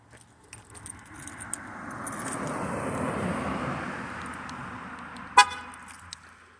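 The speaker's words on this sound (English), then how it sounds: "Gotta lock my car." A car locks at a mountaintop with a short horn chirp near the end, after jangling keys and a swelling rush of passing traffic.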